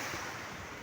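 Calm sea with small waves at the Shah Porir Dwip jetty, Teknaf, giving a continuous soft surf wash mixed with wind buffeting the microphone, no one speaking.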